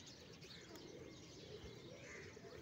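Faint, soft cooing of pigeons mingles with a dull outdoor hum, the calls low and murmuring rather than distinct, heard from a little distance at an old fort in Multan.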